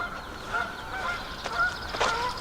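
Geese honking beside the Delaware Canal outdoors, a few brief nasal honks scattered over steady background noise, moderately distant.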